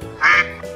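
A toy duck gives one short, loud, nasal quack, close and on its own amid a quiet room.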